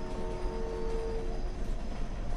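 A train in a Roblox cowboy game rumbles along steadily with a dense, continuous rolling drone and no voices, holding one even loudness throughout.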